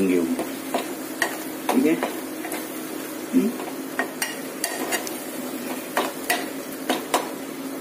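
Prawns being mixed and stirred in a hot pan with salt while drying out, a steady sizzle with repeated scrapes and clinks of the spoon, while a voice speaks briefly.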